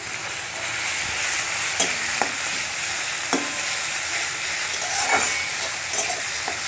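Onion paste and ginger-garlic paste fry in hot oil in a kadai, giving a steady, close hiss of sizzling with a few sharp clicks and scrapes of stirring scattered throughout.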